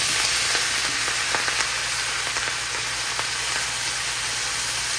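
Seasoned Brussels sprouts hit a hot frying pan with a steady, close sizzle, a dense hiss of frying scattered with small pops and crackles, and no talking.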